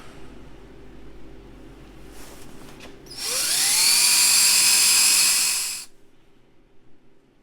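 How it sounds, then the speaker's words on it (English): A high-pitched drill whines up to speed and runs steadily for a few seconds over a low background hum, then stops, drilling a pilot hole for a number 6 screw. "Pilot drill for a number 6 screw."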